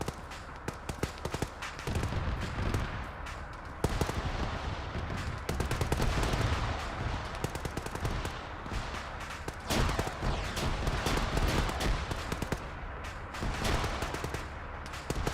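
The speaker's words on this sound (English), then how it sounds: "Good cover fire, good base of fire." Sustained rifle fire during a military field training exercise, many overlapping shots and rapid bursts cracking continuously at varied distances with only brief lulls.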